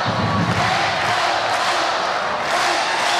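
A standing home crowd at a Hawaii Rainbow Wahine women's volleyball match against UCSB on senior night roars continuously, a dense wall of cheering and yelling that holds loud throughout.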